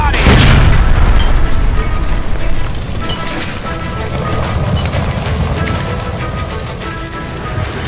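A gas line explosion in the L.A. Noire video game: a loud, heavy boom at the start followed by crackling debris and rumbling fire that settles into a steady roar.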